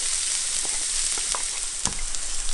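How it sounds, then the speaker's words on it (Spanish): Chopped onion frying in heated oil in a pan gives a close, steady sizzle with a few faint crackles and utensil clicks. No one speaks. "En un sartén calentamos un poco de aceite y empezamos por freír la cebolla picada."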